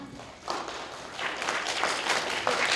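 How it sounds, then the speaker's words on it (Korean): Audience applause greeting a company presenter introduced at a product launch event for a silicone airtight food container, a broad wash of clapping that swells and stays steady through the short stretch. "큰 박수 부탁드립니다."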